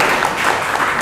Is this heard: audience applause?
yes